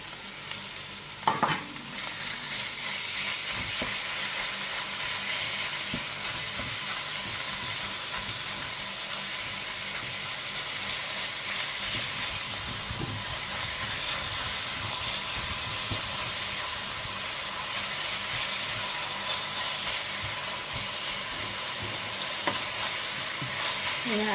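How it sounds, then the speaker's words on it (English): Pork sizzles and fries steadily in a pan while dinuguan (pork blood stew) is being cooked, a continuous loud hiss with occasional stirring scrapes and no talking. "Then we can add the pork now."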